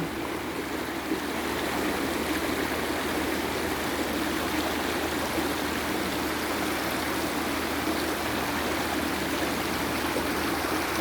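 Rainwater flows across a garden path in a constant, dense gurgling rush, close and loud, with no pauses and no talk.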